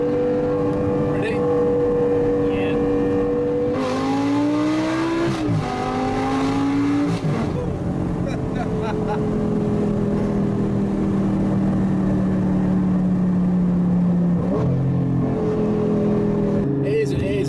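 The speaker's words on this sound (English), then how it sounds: "It is a really, really cool car. It makes a lot of noise." A Lamborghini sports car engine runs loud and steady throughout, with gear changes and rising and falling revs as it drives, while people talk over the engine noise.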